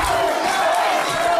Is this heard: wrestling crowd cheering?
yes